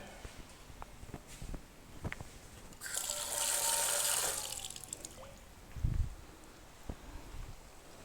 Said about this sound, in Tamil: இந்த பேனை கழுவி நான் ஊற்றிடுறேன்.